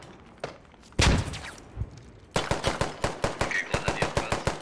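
Gunfire erupts during a firefight in the video game Squad: a heavy single blast, then a sustained stream of rapid automatic shots, close and loud.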